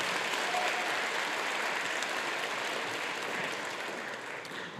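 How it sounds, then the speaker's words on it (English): At a middle school band spring concert, an audience gives a round of applause for a staff member, a steady, moderately quiet wash of clapping that fades slightly near the end. "Let's give him a round of applause"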